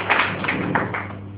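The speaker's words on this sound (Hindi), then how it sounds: "जोरदार ताली आप सबके लिए" Crowd applause at a business motivation event in Bangalore: a dense, continuous wash of many hands clapping, steady and fairly loud throughout with no voices on top.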